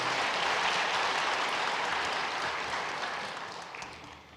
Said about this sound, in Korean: 자리에서 잠깐 일어나시면 우리 큰 박수로 환영하겠습니다